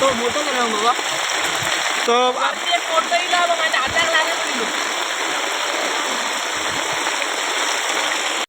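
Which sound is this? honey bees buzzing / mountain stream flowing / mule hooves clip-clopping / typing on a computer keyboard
mountain stream flowing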